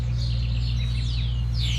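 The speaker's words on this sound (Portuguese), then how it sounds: "Ao som dos pássaros." Birds chirp and call outdoors in a natural setting during an open-air exercise class, high thin twittering and whistles scattered over a steady low hum, fairly faint throughout.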